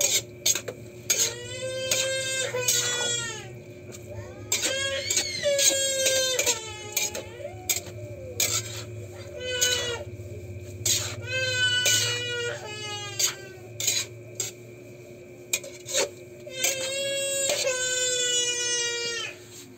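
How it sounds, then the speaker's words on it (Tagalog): A baby wails loudly and persistently nearby in a home, with repeated high-pitched cries broken by short gasping pauses and whimpers, over a low steady background hum. "Umiyak yung baby ko."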